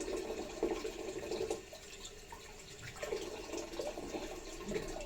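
Cold water runs steadily from a tap while someone wets their face before a wet shave, a continuous close splashing gush with small surges of spatter as hands move through the stream.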